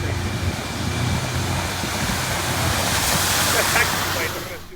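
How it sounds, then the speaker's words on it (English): A vehicle tire plunging through deep water at a staged driving challenge, a steady loud rushing splash and spray that swells toward the end, with wind buffeting the microphone. "Dipping a tire, dipping a tire. Yeah. I mean, that splashing."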